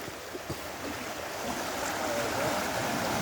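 Swollen creek and river in flood after heavy rain, a steady broad rush of water that builds slightly louder toward the end, heard up close outdoors with no clear talk.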